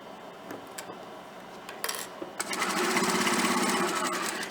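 A sewing machine stitches through a picnic placemat, starting after scattered small clicks and handling noise, then running as a steady rapid hum for the last couple of seconds.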